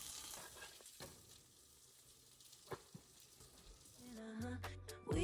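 Sausages sizzle and fry in a pan for breakfast sandwiches, a steady close crackle with occasional stirring clicks, ending in louder clatter and a brief tonal clunk.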